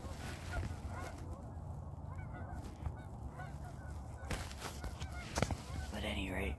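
Geese honking over a bean field in Iowa in late season, faint and distant, with scattered calls over steady outdoor background noise.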